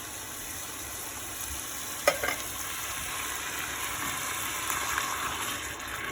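Tinned tomatoes sizzle and fry in a pan, with a steady hiss running throughout and a brief clatter of stirring near the middle, no voices.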